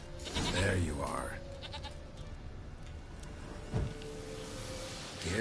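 Goat bleating in the video game Witcher 3 Wild Hunt, a couple of nasal bleats near the start set against game ambience and background sounds.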